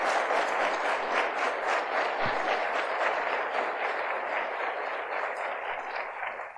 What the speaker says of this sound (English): while we're applauding achievements